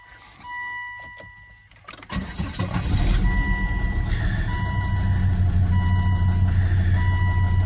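A car at an auction is started: a brief starter crank, then the engine catches and settles into a steady, close idle while dashboard warning chimes beep repeatedly in a regular pattern.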